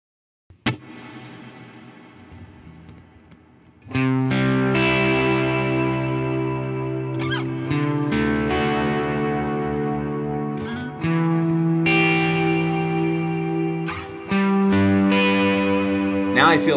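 Electric guitar chords through a Line 6 HX Stomp Glitz Reverb ring out with a lush, washed reverb tail, each strum swelling and sustaining into the next, loud and spacious with no voices.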